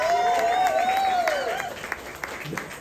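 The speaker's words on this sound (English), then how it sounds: "they deserve a big round of applause" Audience clapping at a volleyball selection show watch party, a steady wash of applause with a clear whistle-like tone over it, gradually fading.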